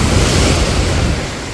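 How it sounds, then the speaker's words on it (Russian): Sea waves break on a beach in Turkey, a loud and close rushing surf with some wind buffeting the microphone, easing slightly toward the end. "Я обожаю эти волны."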